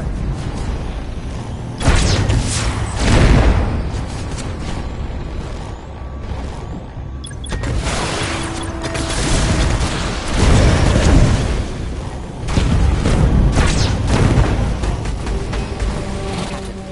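Missiles blowing apart in the Archangel VR game, AMG machine gun fire and explosions: repeated loud broadband booms and crashes in bursts, layered over a steady mechanical rumble.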